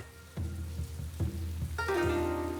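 Rain falls steadily over Tongmo, a village in China, a soft continuous patter with a few sharper drips and tones rising out of it partway through.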